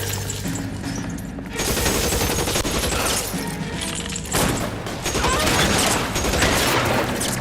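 Sustained gunfire in the PS4 game L.A. Noire during a shootout: loud, overlapping volleys and rapid bursts that swell in two waves. A brief exclamation is heard beneath the shots.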